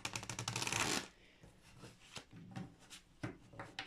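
A brand-new deck of cards is shuffled up close, a dense riffling burst for about a second followed by softer, scattered card handling and taps.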